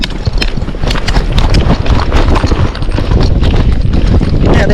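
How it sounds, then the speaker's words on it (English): A Tennessee Walking Horse canters outdoors, its rapid hoofbeats thudding close and loud in a steady rhythm against wind rumble on the microphone. "A little hill, here we go. Canter."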